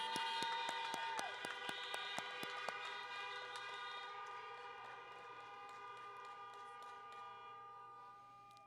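Car horns blare together for a middle school graduation, a dense sustained honking with sharp beeps scattered through it that slowly fades in loudness.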